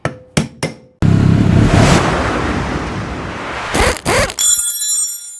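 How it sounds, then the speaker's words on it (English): A chisel taps an old steering bearing race off a motorcycle's lower steering yoke: a few sharp, close metallic knocks, a stretch of loud broadband noise, more knocks, then a lingering bright metallic ring. "just grab that chisel again and tap it off"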